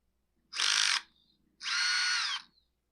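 A power driver loosens the band clamp screw on a Husqvarna 525PT5S pole saw, two close, loud whirring bursts of under half a second and about three-quarters of a second, separated by a short pause.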